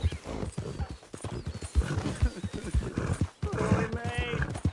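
Horse hooves clip-clopping at a steady trot in Red Dead Redemption 2, mixed with game sound and a voice talking over the rhythmic hoofbeats.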